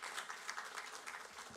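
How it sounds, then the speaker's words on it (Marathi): A college event audience claps in a hall: faint, steady, distant-sounding applause made of many quick overlapping hand claps, with no voices. "त्यांच्यासाठी आपण एकदा जोरदार टाळ्या वाजवूयात."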